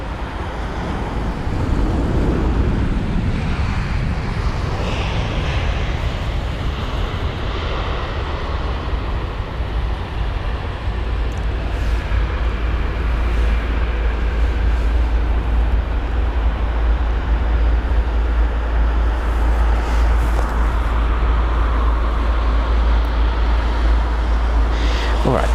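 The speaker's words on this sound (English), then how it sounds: "This is Biman Bangladesh, the 787-8 Dreamliner with the arrival, runway 27 right" A Biman Bangladesh Boeing 787-8 Dreamliner lands on runway 27 right at London Heathrow, coming in fast. Its engines make a steady, loud, low roar with a broad rushing wash that holds throughout.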